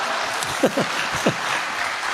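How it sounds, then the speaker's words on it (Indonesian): A crowd applauds at a lively public event, a soft, even patter of clapping running underneath with a few voices rising briefly over it. "Boleh tepuk tangan"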